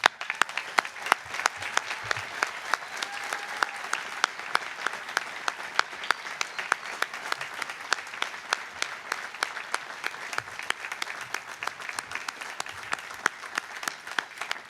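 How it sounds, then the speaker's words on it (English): A large commencement audience at the Villanova University Class of 2017 ceremony applauds the nursing dean. The dense, steady clapping runs the whole time at an even level, with no voices over it. "give a rousing applause to your dean, Louise Fitzpatrick"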